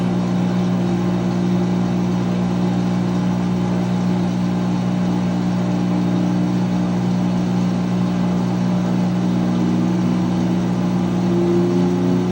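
A 2006 GE Profile washing machine spinning up in its spin cycle, a loud continuous motor hum and whir that climbs slightly in pitch toward the end, alone with no talk.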